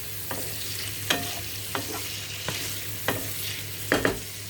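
Paneer pieces tossed in a hot pan, with soft frying sizzle and several distinct stirring scrapes and clinks spaced through the clip, close and moderately quiet, with no talking.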